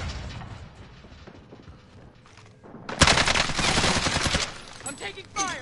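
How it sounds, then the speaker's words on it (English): Gunfire in a PS4 online shooter game, a dense burst of rapid automatic shots that follows a quieter stretch of rumbling game noise, loud and close, with a voice speaking over parts of it. "I'm taking fire!"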